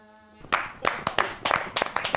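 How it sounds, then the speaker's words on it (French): A small group claps in quick irregular bursts after a brief tonal sound at the start, with distinct separate hand claps close by rather than a dense crowd wash. "Applaudissez."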